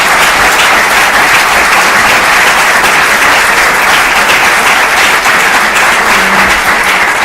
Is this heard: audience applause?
yes